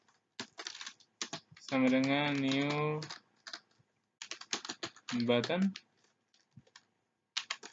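Quick keystrokes on a computer keyboard while code is typed, soft clustered clicks in short runs between stretches of someone speaking nearby.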